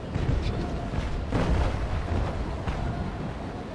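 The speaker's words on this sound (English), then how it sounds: "All cannons ready." Deep, rumbling booms of brig cannon fire from the naval game Naval Action Legends, with several muffled blasts over a continuous low roar, no clear speech.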